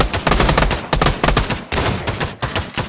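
Rapid bursts of gunfire in the VR shooter Pavlov, loud close shots fired in quick irregular volleys across a few seconds with brief gaps between strings.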